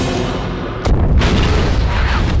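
A grenade goes off in the zombie action film La Horde, a sudden loud, close boom that cuts through the ongoing background noise and leaves a rumbling wash behind it.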